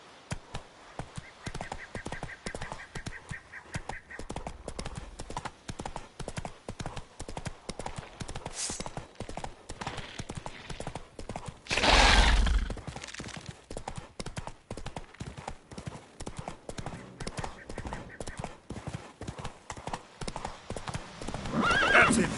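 Roach, a horse in The Witcher 3, gallops with a brisk, continuous clip-clop of hooves, broken midway by a loud neigh and another whinny at the end.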